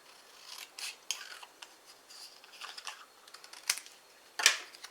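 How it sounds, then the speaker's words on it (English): Scissors snip a craft piece in half while making a bottle box treat holder, a series of quiet, close, irregular cutting snips and rustles with no talk. "We're going to cut this one in half."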